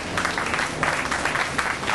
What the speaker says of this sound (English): Can you all give a clap?